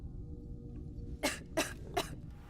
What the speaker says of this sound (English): Yeah, you better stop coughing there.